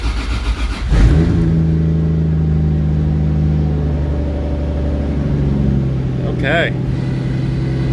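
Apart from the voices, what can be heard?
car with 1.5JZ engine running after coil pack fix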